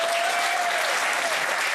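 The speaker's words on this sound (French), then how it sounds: "On peut l'applaudir" A French TV talk-show studio audience applauds a political guest, producing a steady, dense wash of clapping that holds evenly throughout, with no voices rising above it.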